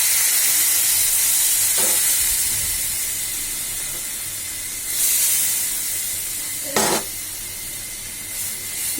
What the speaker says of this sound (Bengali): এবার আমি ডাল দিয়ে দিচ্ছি